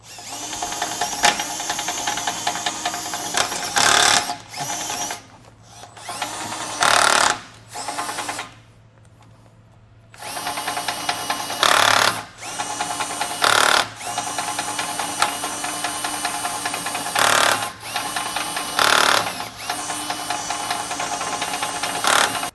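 A power drill whines in repeated bursts while enlarging bolt holes for a base plate kit on a 2021 Jeep Wrangler, each lasting a second or two, with short pauses between, close and loud with a steady mechanical hum underneath.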